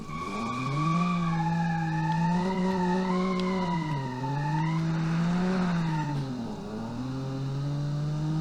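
A rear-wheel-drive economy car in a driving video game, its engine droning steadily with shifting pitch as revs rise and fall, mixed with tire skid squeal, no voices.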